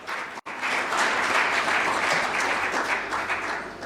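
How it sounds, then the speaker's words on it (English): Steady audience applause at the African Union of Broadcasting general assembly in Botswana, welcoming China Media Group as a new member; dense, continuous clapping with a brief gap near the start. "a round of applause"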